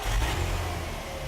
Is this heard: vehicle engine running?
yes